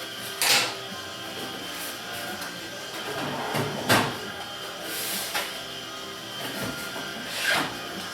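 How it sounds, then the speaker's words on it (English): A tool drawer holding pliers slides shut several times, each pass ending in a soft knock, with quieter rattles and handling noises between the closings. "The drawer shuts pretty fine."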